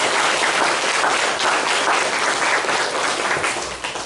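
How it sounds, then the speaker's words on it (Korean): Congregation applauding in thanks during a Sunday worship service at a Korean family church, a dense, steady wash of many hands clapping at full volume throughout, with no voices over it. "감사의 박수를 올려주시면 감사하겠습니다"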